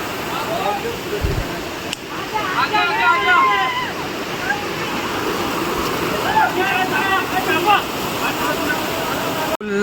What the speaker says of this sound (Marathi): आणि हा समोर वॉटरफॉल, एकदम ब्युटिफुल वॉटरफॉल आहे